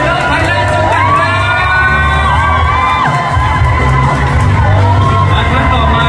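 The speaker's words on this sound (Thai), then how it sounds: "ขอเสียงปรบมือดังๆ" Lively crowd cheering, whooping and shouting at a brand event, loud and continuous, welcoming executives onto the stage under a host's amplified voice.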